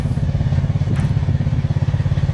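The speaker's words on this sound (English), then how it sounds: "First time loading the four-wheeler." A four-wheeler ATV engine idles close by with a loud, steady low throbbing pulse as it is loaded, one faint clatter partway through and no talking.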